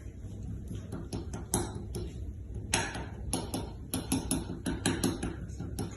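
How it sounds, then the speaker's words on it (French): A fork repeatedly jabbing holes in tart pastry dough lying in a baking dish, for a pear Bourdaloue tart, giving a quick run of sharp, close ticking taps in clusters over a steady low hum. "nous allons devoir faire des trous avec la fourchette"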